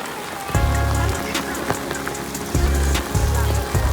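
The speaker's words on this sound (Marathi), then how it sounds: "पाऊस आलेले मित्रांनो जाम पाऊस आलेले" Heavy rain pours down during a flood, a dense steady hiss of drops across a surface, with loud low thumping bursts recurring at intervals over the downpour.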